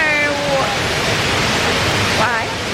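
Indoor waterfall at Jewel Changi Airport, a steady, loud broadband rush of falling water filling the space, with faint tonal sounds and murmur from the crowded terminal mixed in.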